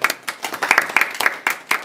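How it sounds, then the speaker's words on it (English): A round of applause from a small group, with several hands clapping in quick uneven bursts that stay fairly close and moderately loud throughout. "Round of applause."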